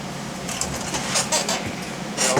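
Canned air is sprayed into the carburetor of a 1995 McLane 801-3.5RP edger, giving short, sharp hissing bursts close up over a steady background rush.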